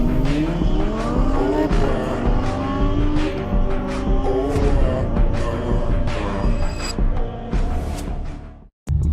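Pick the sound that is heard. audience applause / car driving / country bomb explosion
car driving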